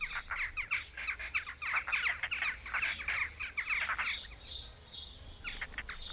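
A flock of jackdaws in Italy calling in a busy chatter of sharp, repeated chacks, moderately distant over a low background rumble.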